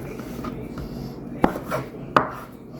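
Knife roughly chopping barbecued food on a board, two sharp distinct thuds over a low background murmur, close and fairly soft.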